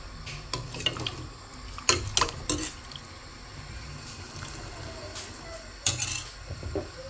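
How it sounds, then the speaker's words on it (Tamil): Coconut milk poured into a simmering Sri Lankan fish sothi, a soft liquid wash with a few louder clinks and splashes from the pot, fairly close, with no talk. "இப்போ இந்த தேங்காய் பாலை நாங்கள் சேர்க்க போகிறோம்."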